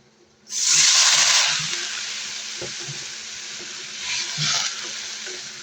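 A sudden loud hiss as water hits frying onions in a hot pan, settling into a steady sizzle with a second surge of crackling later; close and continuous.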